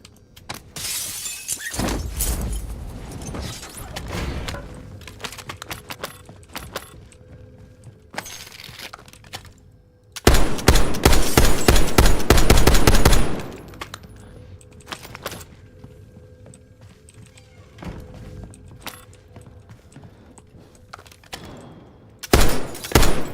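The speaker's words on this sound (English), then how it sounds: "someone's firing" Loud gunfire in the video game Warzone, with rapid bursts and a long sustained volley near the middle, plus scattered shots and a final burst at the end, close and dominant with little talk.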